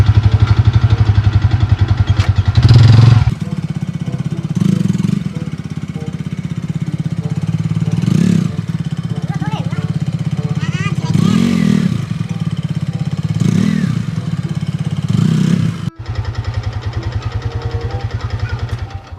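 A motorcycle engine runs close by for the whole stretch, a steady low drone rising in several brief revving surges, with a sudden cut near the end before it resumes.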